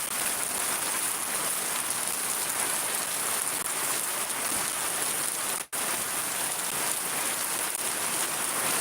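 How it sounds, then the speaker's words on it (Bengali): Heavy rain pours steadily in Shariatpur, a dense, unbroken hiss of drops on surfaces that holds at the same loudness throughout, with one very brief dropout near the end and no voices. "অনেক বৃষ্টি হয়েছে"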